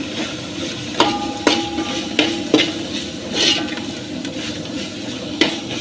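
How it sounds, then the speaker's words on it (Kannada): Mint and coriander are stirred into ghee rice masala in a pan over a low flame: a spoon scrapes and clinks against the metal several times at an irregular pace over a soft, steady sizzle, with no talking. "ಈಗ ಚೆನ್ನಾಗಿ ಮಿಕ್ಸ್ ಮಾಡ್ಕೋಬೇಕು"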